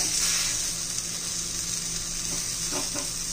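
Raw banana pieces being flipped in a frying pan give a steady, close sizzle with a few soft scraping touches near the end; no one speaks.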